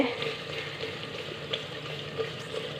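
Masala for a white chickpea curry (chanay ka salan) sizzles and crackles in a hot pan, a close, steady frying hiss with occasional stirring scrapes and no talking.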